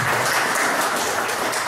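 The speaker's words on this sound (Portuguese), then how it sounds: "Queria uma salva de palmas para vocês, para todos os professores." Audience applauding teachers during a municipal council session in Canoinhas, a dense, loud burst of clapping from a crowd in a hall, lasting briefly without talk.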